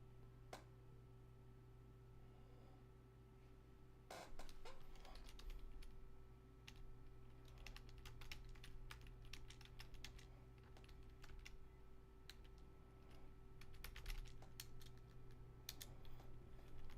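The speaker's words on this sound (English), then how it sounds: "What is going on with my typing today?" Someone types on a computer keyboard in quick irregular bursts of close clicking, with a steady low hum underneath and no talk.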